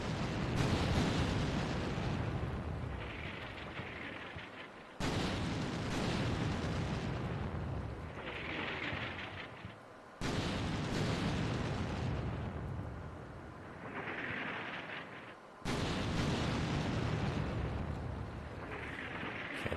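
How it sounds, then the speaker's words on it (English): Artillery shells explode in Combat Mission Shock Force 2, a war video game. Four heavy, booming blasts land about five seconds apart, each followed by a long rumbling decay, with no talk. "Let's check on our artillery. Let's make sure it's destroying the walls."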